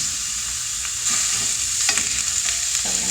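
Ground pork browning in a hot skillet: a steady broadband sizzle with scraping stirs that grow more frequent in the second half, close and fairly loud, with no talking.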